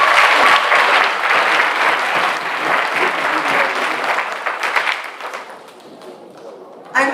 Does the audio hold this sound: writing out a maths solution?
no